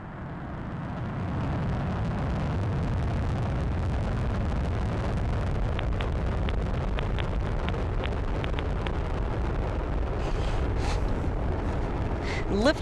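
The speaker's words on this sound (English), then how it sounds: "Lift off the Atlas V rocket and twin spacecraft on a mission to unlock the mysteries of Earth's Van Allen belts." An Atlas V 401 rocket lifting off with the Radiation Belt Storm Probes, a deep continuous rumbling roar that holds steady and loud for the whole stretch, with a voice talking over it.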